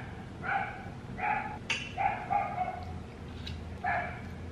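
A dog indoors gives a handful of loud, close barks spaced unevenly over a few seconds, with brief quiet gaps between them and no voices over it.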